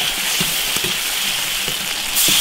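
Pork ribs hitting a little hot oil in an iron wok, giving a close, continuous hissing sizzle with light scraping bumps.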